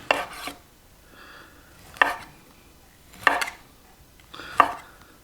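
A knife chops homemade cold cuts into cubes on a board, four separate thudding cuts spaced about a second apart, close and clear with quiet gaps between.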